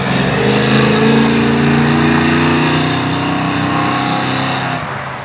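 A car drives past outside a shop, its engine a loud, steady rumble that holds close and then eases slightly as it moves away, with no talking over it.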